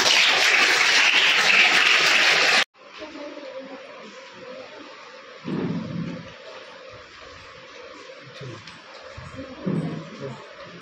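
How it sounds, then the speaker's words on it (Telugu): Children clap together at a National Girl Child Day celebration in Dharpally. The applause is loud, dense and steady for about three seconds, then cuts off abruptly into quieter room sound with faint movement. "ఒక్కసారి అందరు చప్పట్లు కొట్టండి"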